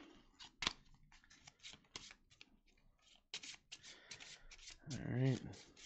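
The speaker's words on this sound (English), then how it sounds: "So let's shuffle these up a bit." Cards for the Massive Darkness board game are shuffled by hand, a run of quick papery riffles and flicks at close range, interspersed with soft speech and a brief voiced sound near the end.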